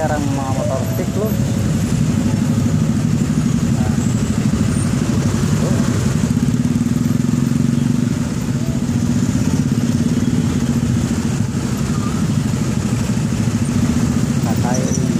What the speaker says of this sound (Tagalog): naka-helerang mga motorsiklo